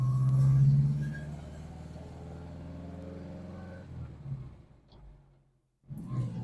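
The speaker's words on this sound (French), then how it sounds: "Petite balade dans le Loiret, dans une voiture fin des années 60, ça ronronne un peu" A late-1960s Ford Taunus 12M V4 coupe hums along a country drive in the Loiret, heard from inside the cabin as a low, steady engine drone that eases off and fades near the end before picking up again.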